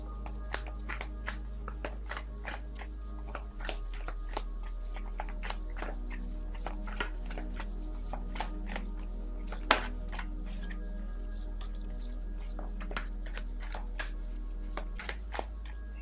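Tarot cards shuffled by hand in a quiet room, a long run of soft, rapid papery flicks and riffles with a few sharper snaps, with no voices.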